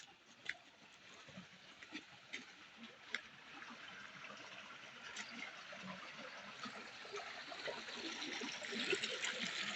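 A strong stream of flowing water rushes steadily, fairly faint and continuous, growing slightly louder toward the end, with a few small knocks and splashes and no talk.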